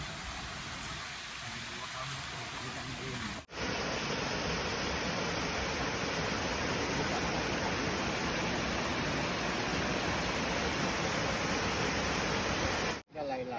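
Sila Phet waterfall in Nan, Thailand, roars as a steady, loud broadband rush of falling water, with a brief break in the sound near the start and again close to the end.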